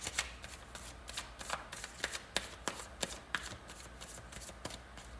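Tarot cards being shuffled by hand, a quick run of crisp riffling snaps and flicks at an even pace, close and quiet with no voice over them.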